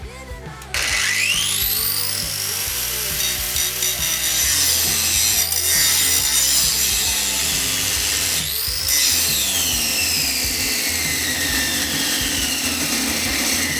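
A Stanley FatMax FMEG220 angle grinder cuts loudly and steadily at close range, a sustained high-pitched whine and grinding roar with brief pitch dips where the disc bogs under load.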